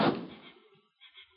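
A front door in an old radio drama opens with a solid thunk and a short rattle that fades quickly, followed by a couple of faint knocks or creaks in a quiet room.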